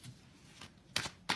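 Tarot cards are shuffled in quick, soft riffling bursts, with three or four short papery flutters close by and quiet between them.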